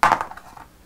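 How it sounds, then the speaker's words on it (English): Dice rattle and clatter briefly on a tabletop during an Arcadia Quest board game, a quick burst of small clacks that fades out within a second, with no talk. "I get a roll again, another dice."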